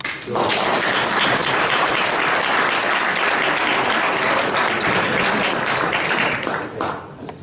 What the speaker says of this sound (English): And so can I suggest we give them a round of applause?